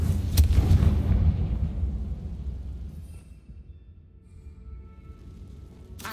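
A Confringo fire spell bursts in Hogwarts Legacy with a heavy, booming blast that rolls off into a long, fading rumble.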